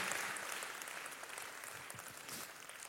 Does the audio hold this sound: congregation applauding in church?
yes